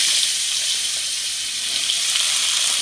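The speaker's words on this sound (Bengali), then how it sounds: "মাছ ভাজা তেলের মধ্যেই পটলটাও ভেজে নেব" Pieces of pointed gourd fry in oil left over from frying fish, giving a loud, steady, close sizzle that runs unbroken throughout.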